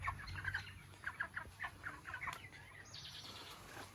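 Broiler chicks on a poultry farm cheep in quick, bright bursts, several birds peeping over one another at moderate distance against a faint low background hum.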